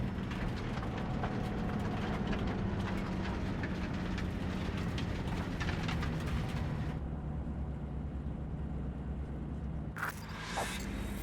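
A train rumbles past in the Cyberpunk 2077 video game, a dense, steady roar with faint rhythmic clatter that drops off abruptly partway through before a brief burst of noise.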